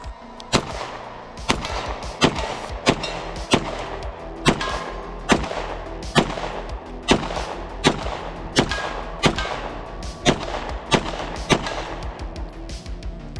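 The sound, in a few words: Beretta 92 pistol firing with GG92 compensator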